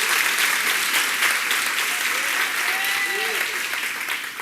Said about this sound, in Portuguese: Diga amém, dê aplausos.